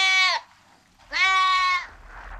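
A goat bleats twice, close and loud, a short wavering cry followed after a brief pause by a longer, quavering one, with faint room noise between.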